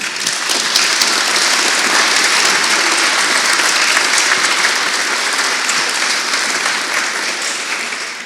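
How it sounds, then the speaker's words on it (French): An audience at an armistice commemoration ceremony applauds warmly, a dense, steady wash of clapping that holds loud and even for about eight seconds with no talk over it. "Vous pouvez les applaudir chaleureusement."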